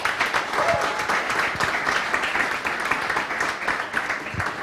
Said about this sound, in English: So please go with a big round of applause.